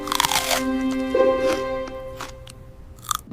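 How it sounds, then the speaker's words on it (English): A single crisp bite into a crunchy fresh red apple, one sharp crack near the mic followed by a brief crunch, with steady music playing underneath. "Here is a fresh red apple for you. Thank you, Mom. It looks very crunchy. Crunch."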